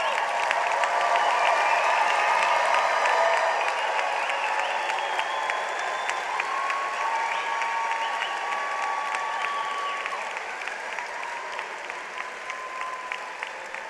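A large audience applauds at a spring college of education graduation ceremony, honouring doctoral and master's graduates. Sustained dense clapping fills a big hall, loud at first and easing slightly toward the end, with no voices over it.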